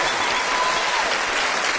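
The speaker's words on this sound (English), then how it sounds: "Give him a round of applause, though." Steady, loud studio audience applause on a TV show stage, a continuous wash of many hands clapping with no pauses.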